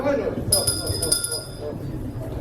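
A small handheld bell rings with bright, metallic tones for about a second amid people talking nearby at a Christmas carol singing event, then fades out.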